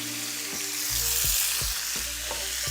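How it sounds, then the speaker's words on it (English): Sliced onions dropped into a hot pan and frying, a steady sizzle with repeated thuds and stirring knocks beneath a low hum. "Now that I got my pan up to heat, we're gonna go ahead and drop in these onions."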